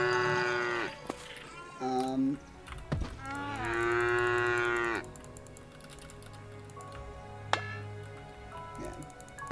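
Cows in the survival video game Craftopia give several drawn-out moos, with a long loud one in the middle and fainter ones later, over a low steady game hum.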